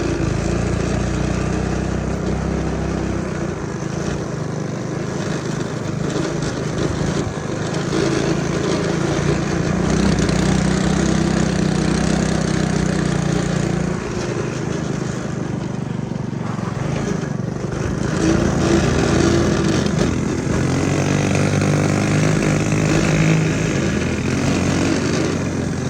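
A small mini bike engine revs in the snow, a buzzing, fluctuating motor drone near the listener for the whole stretch, with brief voices now and then.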